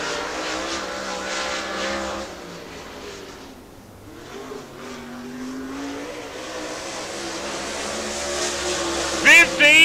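A late model race car runs a qualifying lap, its engine droning with rising and falling pitch as it swings around the track, under a track announcer's steady commentary.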